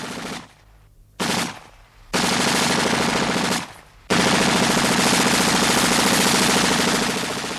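Machine gun fire from a Spanish Civil War battle, with several long sustained bursts of rapid gunfire broken by short pauses, loud and dense throughout.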